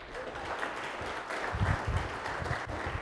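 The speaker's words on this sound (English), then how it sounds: "A round of applause for Sean Harper." A live audience at a talk on overcoming challenges applauds steadily for about three seconds to welcome the speaker Sean Harper. The clapping is moderately close, with a few sharper claps standing out.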